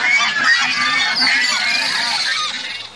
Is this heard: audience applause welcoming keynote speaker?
no